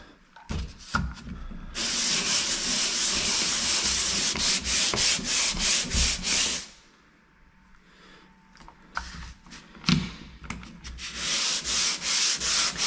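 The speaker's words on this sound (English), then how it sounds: "Let's do the bit of sanding I have to do here." Close, scratchy sanding strokes rub back and forth in steady bursts, pausing for a quiet stretch before resuming with rhythmic rasping.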